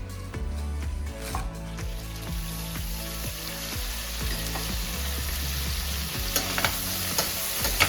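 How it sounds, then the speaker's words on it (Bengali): Rui fish frying in a pan on a home stove, a steady close crackling sizzle that runs the whole time, with occasional soft clinks and stirring scrapes, no voices. "এপাশে মাছ ভাজা হচ্ছে"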